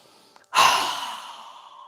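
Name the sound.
strong exhale through open mouth during yoga breathing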